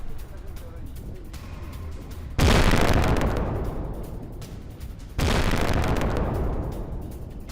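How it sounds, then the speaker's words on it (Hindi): Two heavy blasts ring out from drone attacks on a nuclear plant, each a sudden loud boom followed by a long rumbling decay, several seconds apart, over a low background. "न्यूक्लियर प्लांट में विस्फोट, ड्रोन हमलों से न्यूक्लियर प्लांट में लगी भीषण आग"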